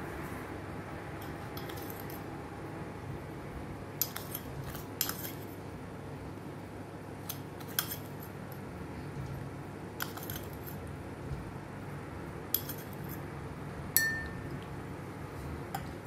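Metal spoon clinking against a glass of water while stirring in salt, a series of light, sharp chinks at irregular intervals over a quiet background.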